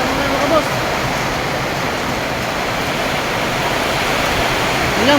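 Heavy rain pours down in a storm with gusting wind, a dense, steady roar throughout, with a voice briefly heard under it.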